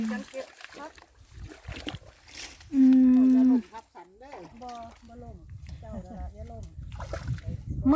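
Water splashing and sloshing as someone wades in to gather vegetables, the low churning noise running under loud nearby talk.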